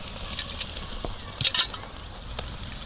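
A Wagyu tomahawk steak laid on a charcoal grill to sear, heard as a low crackle and sizzle with a few bright clanks and taps in the middle.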